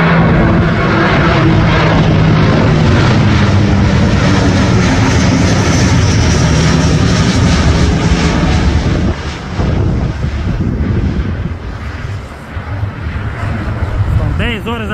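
Roaring jet engines of a large airliner taking off at Viracopos airport in Campinas, a continuous loud, broad rumble lasting throughout, close by, with a slight dip near the end.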